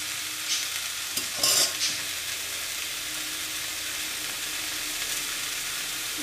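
Cauliflower masala curry is stirred in a frying pan, with a few brief scraping strokes over a soft, continuous sizzle and no talking.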